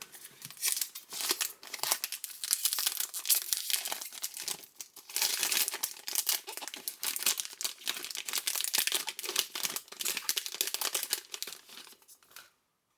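A Futera trading card pack wrapper being torn open and handled, with loud close crinkling and crumpling of foil in continuous bursts that pause briefly before the rustling resumes.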